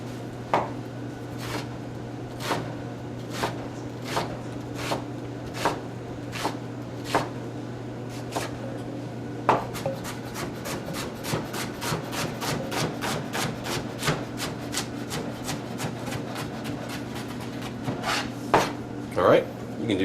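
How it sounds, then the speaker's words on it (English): Knife chopping onions on a board, a steady series of sharp close taps that speed into a rapid run in the second half, with a low background hum. "First, what we got to do is chop some onions."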